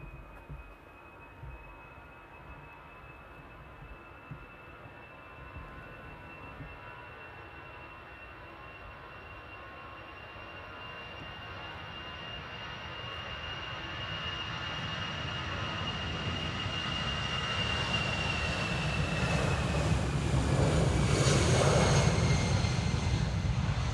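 A jet airliner takes off at Amsterdam Airport. Its engine roar starts distant and builds steadily louder over a long stretch, with a high whine running on top.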